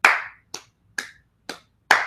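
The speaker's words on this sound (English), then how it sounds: "Let's start a slow clap" Five separate hand claps at a slow, steady pace, roughly half a second apart, close and crisp with short decays and silence between them, made as a slow clap at the end of a Theology Thursday taping.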